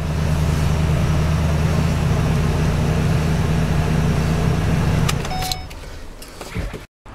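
A 2012 Scion xB idles steadily after start-up at a dealership lot, a loud, even engine hum that drops away near the end, followed by faint clicks and a door or key sound.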